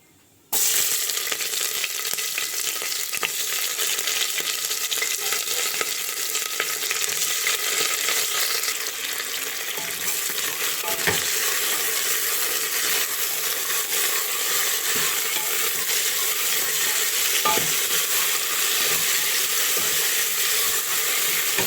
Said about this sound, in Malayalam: 2 സവോള, ഇഞ്ചി, വെളുത്തുള്ളി, 1 തക്കാളി, 3 പച്ചമുളക്, കറിവേപ്പില എന്നിവ ഇട്ട് വഴറ്റുക